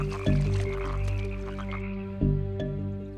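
Leopard frogs croak in a wetland with deep, resonant calls, including a couple of sharp close croaks over a sustained droning chorus.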